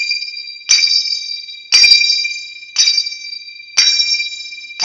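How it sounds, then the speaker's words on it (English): Zill finger cymbals struck together in four evenly spaced bright metallic rings, each decaying smoothly before the next, close and clear with no talk. "lifting those fingers up to draw the sound out of the zill"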